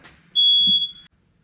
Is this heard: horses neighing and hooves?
no